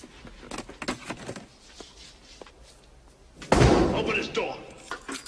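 A door slams once, loud and close, partway through a tense scene, after shouting and some shuffling, then a noisy rumbling tail fades out.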